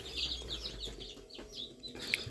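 Crested baby chicks peep nearby, with rapid high-pitched chirps repeating in a quick, uneven patter over a soft background.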